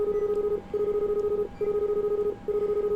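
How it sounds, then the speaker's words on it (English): A telephone rings with a steady electronic tone in repeated bursts, each about three-quarters of a second long and separated by brief gaps. The ring is loud and close, with no talk over it. "someone's ringing me on the phone"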